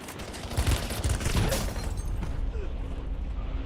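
Gunfire in Call of Duty Warzone comes as a dense burst of loud shots with mechanical clatter, then eases into a quieter rustling tail, with faint voices underneath.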